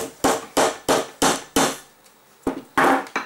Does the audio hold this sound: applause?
no